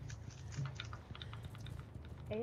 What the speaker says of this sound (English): I hear you chewing.